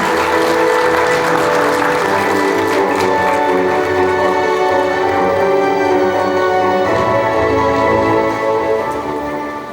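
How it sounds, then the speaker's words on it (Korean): Loud, continuous applause from an audience at a film awards ceremony honoring a best actress winner, a thick wash of clapping that holds steady and begins to fade near the end. "큰 박수 부탁드리겠습니다"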